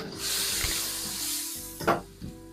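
Black beans tipped into a hot wok for beef in black bean sauce, a continuous bright sizzle with a few soft scraping stirs and a short louder hiss near the end.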